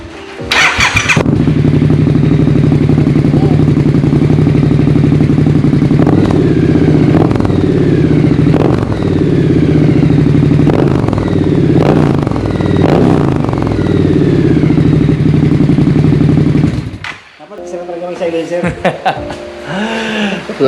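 Triumph Scrambler XE motorcycle fitted with a Zard exhaust idles loudly and steadily close by, with a deep rumbling throb and a few blips, then cuts off near the end as someone starts talking.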